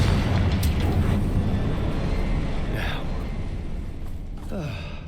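Confringo fire spell blasting in Hogwarts Legacy, a loud, sustained rumbling explosion with crackling fire and a whooshing burst near the end, heard close and continuous.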